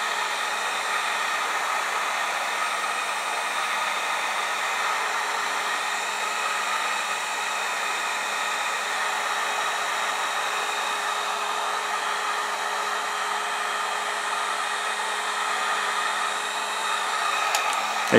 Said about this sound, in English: And you can see the hot air actually